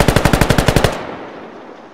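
A Yugoslav M70 AK rifle fires a rapid automatic burst of about ten loud shots in steady rhythm, then a ringing echo tails off for a second.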